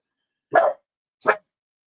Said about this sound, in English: So now the dog's freaking out.